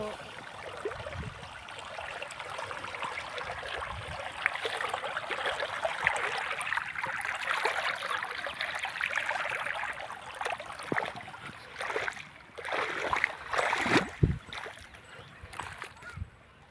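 Irrigation water gushes continuously into a farm field through an opened gate, a broad rushing wash that holds steady before breaking into choppier splashing bursts toward the end.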